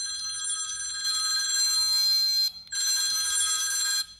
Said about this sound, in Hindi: रिंगटोन्स बदल सकते हैं